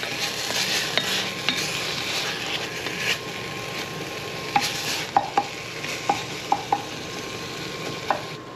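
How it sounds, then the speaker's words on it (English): A sofrito with pancetta sizzles in a pot as a steady close hiss, with several light metallic taps and scrapes of a spoon stirring toward the end; no talking. "And my sofrito is still going with my pancetta in it. And give it a stir."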